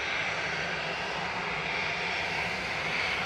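An easyJet jet departing Manchester Airport, giving a continuous, even engine roar with a strong mid-high hiss, moderately distant and unbroken, with no voices.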